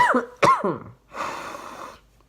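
A few sharp, raspy throat-clearing bursts in quick succession, close to the mic, followed by a longer breathy exhale.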